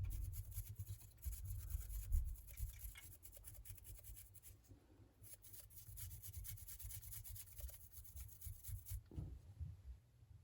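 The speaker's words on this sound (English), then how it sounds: "you're going to dry brush over all the stone areas" A dry brush scrubs paint across the stonework of a Skaven Plague Furnace miniature, giving soft, quick, irregular rubbing strokes that come close and quiet, with brief pauses between them.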